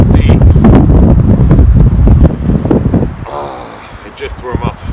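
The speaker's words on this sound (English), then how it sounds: "You can hear the wind still" Strong gusting wind of a winter windstorm outside a Polish military lavvu tent, a loud roaring buffet that eases partway through into softer rustling and flapping, with a voice speaking over it.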